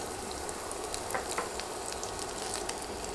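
Chopped garlic sizzles in a little hot oil in a pan for red amaranth greens, a steady close frying crackle with soft scattered pops.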